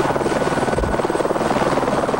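A TV news helicopter flies nearby, its rotor producing a loud, steady chopping drone with a rapid rhythmic pulse and no voices.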